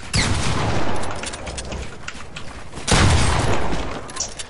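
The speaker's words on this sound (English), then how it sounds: "Stop shooting me." Gunfire in Fortnite, two loud clusters of close shots with booming impacts and a quieter stretch between them, with a voice talking during the fight.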